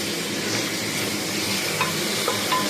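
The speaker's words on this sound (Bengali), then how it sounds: "এবার দিয়ে দিচ্ছি হচ্ছে এখানে 2 চামচ মতো 2 টেবিল স্পুন মতো আদা রসুন বাটা।" Ginger garlic paste fries with browned onions in a pan for chicken soup, a steady close sizzle with faint stirring scrapes and a couple of light clinks, no talking.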